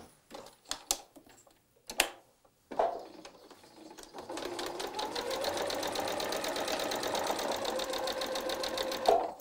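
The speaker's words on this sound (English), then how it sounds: "let's go sew our 1/4 inch seam allowance" A sewing machine stitches a quarter-inch seam allowance on a quilt block, starting with a few separate clicks and handling knocks, then running steadily in a fast, even mechanical rattle for several seconds, close and alone without talk.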